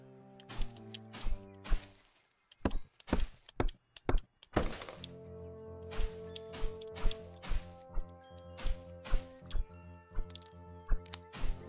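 Repeated soft, hollow thunks of pinecones falling in a video game, in an uneven rhythm over a sustained tonal game music bed, like small objects dropping and bouncing.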